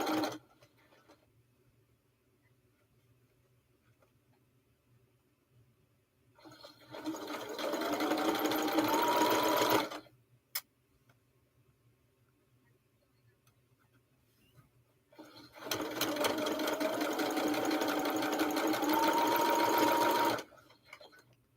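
A vintage Featherweight sewing machine stitching a quilt block, with two separate runs of steady, fast mechanical whirring and clicking, each about three to five seconds long and separated by quiet pauses, close and clear with no talking.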